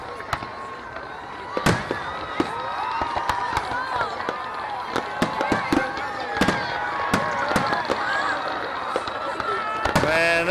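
Fireworks at a Bay City display burst in repeated booms and crackles at a distance, with voices and crowd sounds in between.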